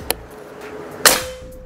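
A Mouser OD 32 PCP air rifle fires one sharp, loud shot that cracks and tails off quickly; a fainter click comes just before it.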